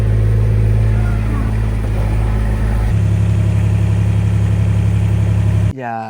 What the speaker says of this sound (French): à l'aide d'un tracteur, en fait, il faut tondre régulièrement